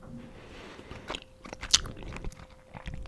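Gum chewing close to the mic, with soft wet smacks and crunchy bites in an irregular rhythm, quiet and intimate with no talking.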